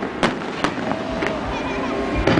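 Fireworks burst over water at a mall bayfront, giving several sharp pops and cracks against a steady crowd murmur, with voices talking throughout.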